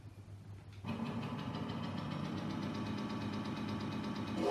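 Synthetic car engine from an Amiga racing game running on Pimiga on a Raspberry Pi 400, a steady buzzing drone that kicks in after a short pause and rises in pitch at the end.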